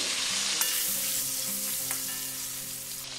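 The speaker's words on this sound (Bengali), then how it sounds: "লম্বা লম্বা করে এটা ভেজে নেব" Long-cut potatoes, with cauliflower to follow, fry in a pan for a fish curry, giving a close, steady hiss and crackle with a few soft stirring knocks and no voices.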